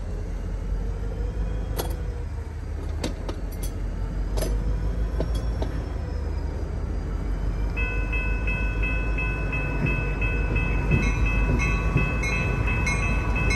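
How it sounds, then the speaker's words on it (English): A Norfolk Southern SD40-2 diesel locomotive, number 3472, reverses past a switch on the Cement Secondary near Stockertown Yard with a steady, heavy low rumble, a few clanks and, in the later part, sustained tonal sounds above the engine drone. "you can see NS3472 reversing down the line past the switch into Stockertown"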